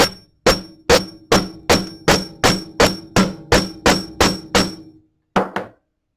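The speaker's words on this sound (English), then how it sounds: "I'm just going to hammer the curve real quick." Hammer strikes on a metal locket curve resting on a bench block, about a dozen sharp, evenly paced metallic blows close up, then a short pause and one final double tap.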